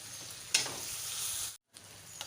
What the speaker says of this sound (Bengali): মশলাগুলো দিয়ে সামান্য একটু জল দিয়ে কিছুক্ষণ একটু কষিয়ে নেব।